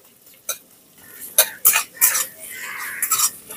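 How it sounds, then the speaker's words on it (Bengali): Chopped onion with ginger being stirred in a pan, several sharp spoon scrapes and clinks against the metal over a faint low sizzle, close and intermittent. "পেঁয়াজটাকে হালকা করে একটু নাড়াচাড়া করে নেওয়ার পর"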